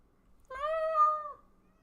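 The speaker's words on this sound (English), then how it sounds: "The kitty is going meow currently." A domestic cat lets out a single drawn-out meow, clear and close, lasting under a second in an otherwise quiet room.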